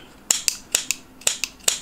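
Sharp scissors cut wool while a pompom is trimmed: about eight quick, crisp snips in a steady rhythm, close and clear with nothing else heard.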